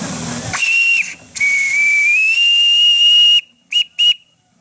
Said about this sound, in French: Alors là, nous avons le sifflet à vapeur.